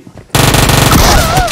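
A shotgun fires in the mobile battle game PUBG Mobile: a sudden loud, close blast after brief quiet, followed by a sustained burst of gunfire and ringing effects.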